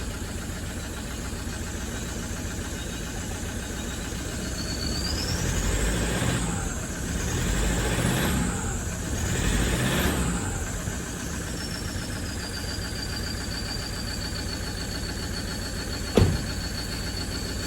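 Diesel engine of a Toyota Land Cruiser Prado 1KD-FTV with a cracked piston, running with a steady mid-pitched idle that swells into three broad chuffing pulses, followed by a single sharp knock near the end.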